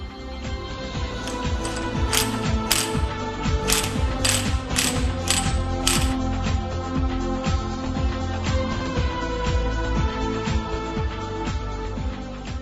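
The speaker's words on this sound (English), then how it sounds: "use the special nut puller and the primary gear holder special tools to tighten the driver gear special nut and the Allen bolt" A ratchet tightens the driver gear special nut on a Pulsar NS 200 engine, clicking rapidly and continuously up close, with several brighter metallic ticks early on and no talking.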